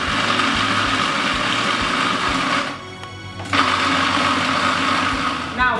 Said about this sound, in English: put the ginger in the blender and mix it